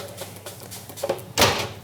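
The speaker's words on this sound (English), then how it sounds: "I'm going to be closing the door" A few light clicks and taps lead into one firm, loud thud of an oven door swinging shut, close by.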